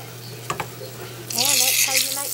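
A fried apple pie browns in a pan, its soft sizzle rising partway through and continuing under a person talking nearby.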